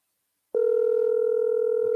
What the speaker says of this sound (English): his number is ringing